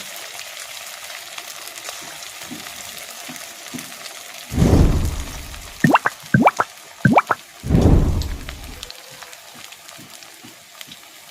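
Semolina balls deep-frying in oil over a medium flame, a steady low sizzle broken by two loud bubbling surges and a few sharp pops and drips in between, close and unvoiced.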